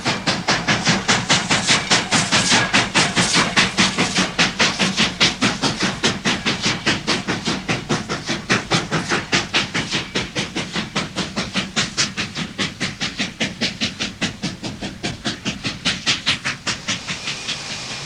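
A steam train on Rhodesia Railways at Thompson Junction near Wankie chuffs in a loud, rapid, regular rhythm with constant hissing steam, close by and alone for the whole stretch.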